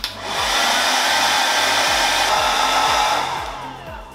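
A hair dryer's rear end is pushed into a cup, giving a loud, steady whooshing roar that starts abruptly and holds, with a low repeating pulse running underneath before it tails off slightly at the end.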